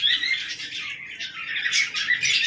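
A pair of pigeons, including Giribaz, Madras and fancy breeds, give close, raspy squawking calls in short repeated bursts, heard alone without talk.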